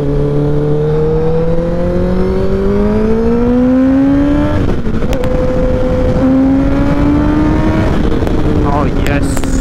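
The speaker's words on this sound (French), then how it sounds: "on a une décélération là. On a un comportement très fluide du moteur" Kawasaki ZX10R motorcycle engine decelerating on a road, a smooth steady engine drone with slowly shifting pitch running close and loud for the whole stretch, with a brief shift around the middle.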